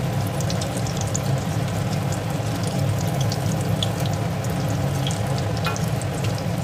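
Vada pav fritters deep-fry in hot oil with a dense, steady bubbling hiss and scattered crackling pops, close and continuous throughout.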